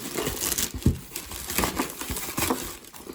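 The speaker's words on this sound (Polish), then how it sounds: "Trzeba najpierw odpakować tą warstwę" Crinkly plastic or paper packaging rustles and crumples in short bursts, close by, with no talking.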